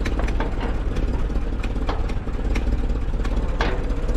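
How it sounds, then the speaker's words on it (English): An 80-plus-year-old Ford 9N tractor engine runs with the clutch in and the PTO engaged, giving a steady, close, loud idling chug with rhythmic clattering and knocking throughout, and no talk. "We'll push the clutch and throw that in and try and see if the PTO works."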